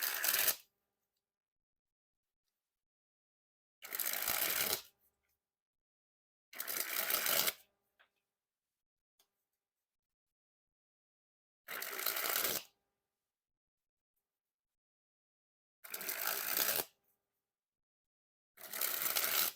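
A deck of Grey HMNIM playing cards is sprung from hand to hand six times, each a loud fluttering burst of about a second, separated by clean silence.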